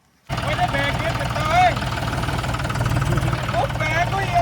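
A John Deere tractor engine runs steadily with a low rumbling idle that rises slightly as it pulls away, close by, with excited voices talking over it.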